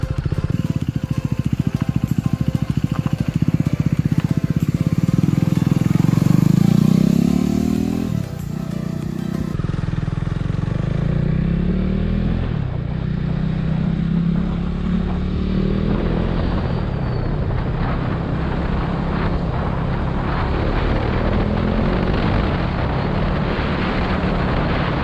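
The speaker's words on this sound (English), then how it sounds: "let me ride this motorcycle for you to show power difference and riding sound." A KTM RC 390 fitted with a loud aftermarket exhaust roars hard as it rides off. The engine is deep and strong at first, then dips and settles into a steadier, rougher running note with some wind noise.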